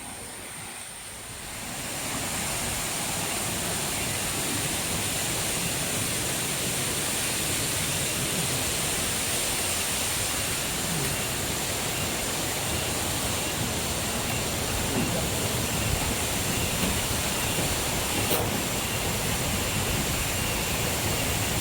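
Sedudo waterfall in Nganjuk pours steadily, a dense, even roar of falling water that holds close and constant throughout after a quieter opening.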